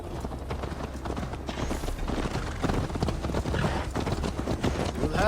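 Horse hooves clip-clop steadily at a riding pace in Assassin's Creed Valhalla, a dense, continuous rhythm of close, fairly loud hoofbeats over game ambience.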